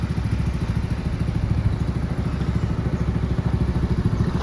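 A Honda Dream 100 motorcycle runs close by, its engine chugging in a steady loud rhythm with faint mechanical clatter from gear shifting, no talk over it.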